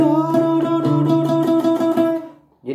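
Guitar notes with string bends, a run of repeated plucked tones with pitch shifts, close and clear, fading out near the end before a brief new sound starts.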